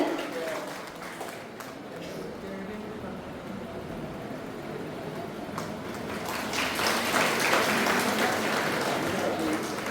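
An audience on stage honours an MLA with clapping that swells into fuller, denser applause in the second half, while talk carries on over the murmur.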